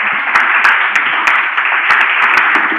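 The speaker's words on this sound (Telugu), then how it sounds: "చప్పట్లు కొట్టండి గట్టిగా" A church congregation at a fasting prayer meeting claps loudly and steadily, a dense continuous wash of hands with a few sharper individual claps standing out.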